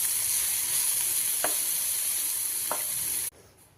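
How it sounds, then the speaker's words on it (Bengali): Soaked sago stirred into a spiced masala with rock salt in a pan, a steady close sizzle with two brief scrapes of the spoon, then cutting off to near quiet. "যে জল দিয়ে একটুখানি ফুলেছে সেই সাবুটা এই মশলাটা মধ্যে দিয়ে দিয়েছি"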